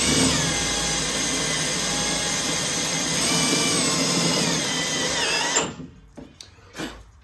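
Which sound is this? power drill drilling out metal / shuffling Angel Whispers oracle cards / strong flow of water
power drill drilling out metal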